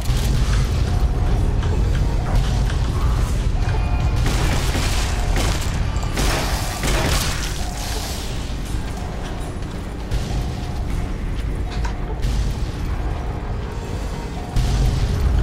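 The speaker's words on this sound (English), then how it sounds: "How is this tunnel? Well, it keeps exploding." Repeated explosions in a tunnel in Fallout New Vegas, heavy booms and bursts that roll on continuously and loudly for the whole stretch, with sharper blasts clustered in the middle.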